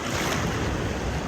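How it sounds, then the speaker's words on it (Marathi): Ocean waves break on a beach in Goa as a dense, steady wash of surf, loud and continuous with wind rushing across the microphone and no voices. "ते लाट आली आता इथे."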